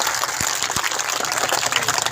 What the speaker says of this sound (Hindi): एक बार जोरदार तालियों से स्वागत कर दीजिए